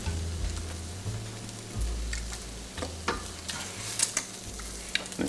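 Food being stirred by hand in a bowl while preparing a meal, with eggs and powder in the mix; soft scraping and clinking strokes in an irregular rhythm, close and moderately quiet, no talking.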